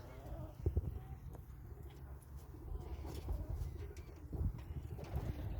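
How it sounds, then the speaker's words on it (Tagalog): Low pigeon cooing rumbles through a busy background with shuffling and fluttering sounds on a farm, fairly close and continuous. "Dami kalapati."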